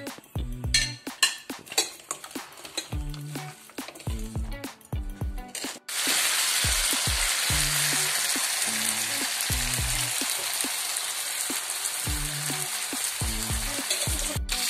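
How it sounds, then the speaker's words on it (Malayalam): Chicken pieces fry in hot oil for chicken pickle, first with repeated utensil clatters and stirring, then a loud, continuous close sizzle dominating the rest with occasional taps. "ഇനി നമുക്കിതൊന്ന് വറുത്തെടുക്കാം."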